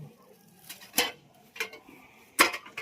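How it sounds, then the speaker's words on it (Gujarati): Dishes and utensils are scrubbed in a kitchen, with a few sharp, close clinks and scrapes of metal against metal at irregular intervals over quiet background. "આ અમારા અકીમાને વાસણ ઘસવાનું ચાલુ છે"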